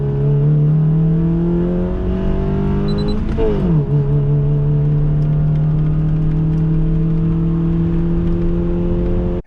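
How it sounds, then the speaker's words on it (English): A 2015+ Honda Fit with a fitted shifter bushing kit drives along, its engine droning steadily and loud with one quick upshift, the pitch dropping midway, road hum throughout. "take the car for a test drive"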